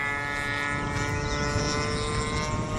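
A Spitfire aircraft flying past doing aerobatics just after takeoff: a steady, droning engine roar with a strong tonal hum, faint and distant, holding level for the short stretch with no voices.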